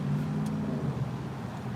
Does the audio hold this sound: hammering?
no